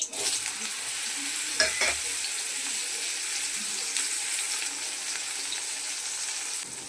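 Raw mango sizzles and fries in hot oil with mustard seeds, bay leaf and dried chili, a steady close crackling hiss broken by a few stirring scrapes, with no talk.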